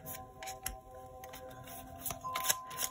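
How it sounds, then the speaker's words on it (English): Tarot cards are handled, tapped and straightened into a neat stack, giving soft close-up rustles and a few sharper taps and slides, quiet and alone. "I just like when the cards are nice and organized."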